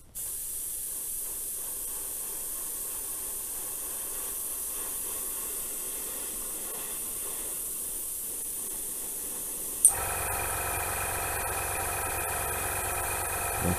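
Steady airbrush hiss spraying Stardust Colo gloss black paint, continuous and close with no talk, the tone shifting slightly near the end.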